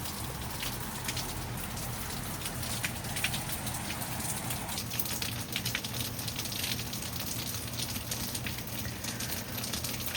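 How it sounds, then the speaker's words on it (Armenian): Rain falls steadily at night, a soft, even patter and hiss with scattered drops, fairly faint and continuous, with no voices. "Բայց անձրևա, բայց շատ հավես է։"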